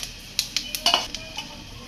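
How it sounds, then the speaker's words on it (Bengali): Panch phoron spices dropped into hot mustard oil in a pan, a low sizzle under sharp metallic clinks and scrapes from a stirring spoon, irregular and close. "সর্ষের তেল, তেল গরম হয়ে গেছে, এখন দিয়ে দিবে পাঁচ ফোড়ন।"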